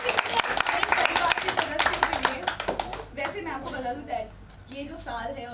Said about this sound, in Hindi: अच्छा एक बार जोरदार ताली